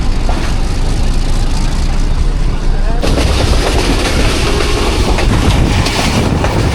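The Millat Express rumbles loudly and continuously along the Khanewal–Wazirabad branch line in Pakistan, a dense roar of wheels and carriages heard close from on board, with an abrupt shift in the noise partway through.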